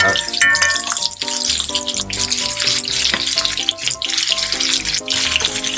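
A porterhouse steak sears in melted butter with garlic and fresh rosemary in a very hot pan, giving a steady, bright sizzle that runs throughout, with music playing over it.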